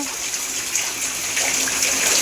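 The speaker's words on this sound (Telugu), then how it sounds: "వర్షం అయితే బాగా పడుతుంది" Heavy rain pours in a dense, steady hiss and splash, close and continuous, growing slightly louder toward the end.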